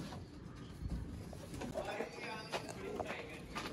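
Chapra fancy pigeons coo softly and repeatedly, faint and close by, with scattered chirpy notes and quiet voices in the background.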